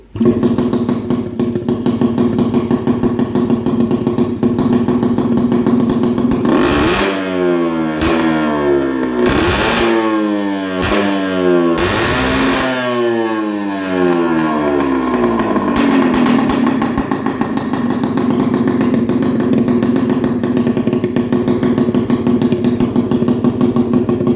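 A Peugeot 50cc moped engine fitted with a 50 mm big-bore kit buzzes loudly up close, then is blipped through several sharp rising and falling revs before settling back to a high steady drone.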